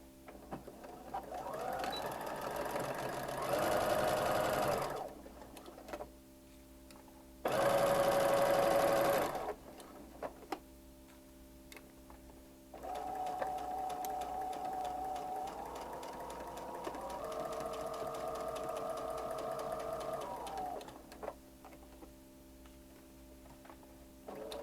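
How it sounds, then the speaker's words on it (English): A sewing machine stitches fabric with green thread in short bursts of rapid mechanical whirring, separated by quiet pauses, close and clear with no talk. "I'm sewing with green thread so you can see my needle's all the way over"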